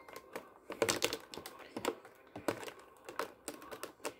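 A knife cuts small rubber band pieces at a desk, producing quiet, irregular clicking taps and scrapes in short bursts, close but soft, with no talk.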